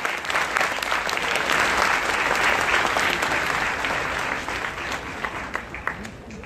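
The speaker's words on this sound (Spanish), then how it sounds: "Aplausos entonces para el elenco de danza." Sustained crowd applause at a university welcome event greets a dance troupe, thick and steady clapping that thins slightly toward the end.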